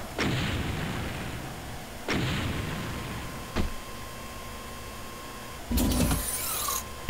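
In the Doom game level E4M7 (Rupture), exploding zombies set off booming blasts that recur several times with pauses between them, each followed by a rumbling decay, and a harsher crackling burst comes near the end.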